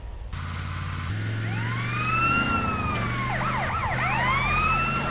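A police car siren in GTA San Andreas wails loudly, with rising and falling sweeps that overlap into rapid yelps over a low engine drone.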